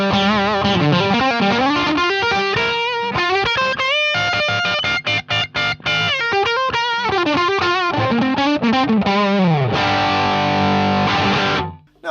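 Electric guitar played through a Victory V4 The Sheriff pedal preamp with its volume at three o'clock gives loud, distorted, sustained riffs and chords. Brief choppy stops fall midway, and the last notes cut off at the end.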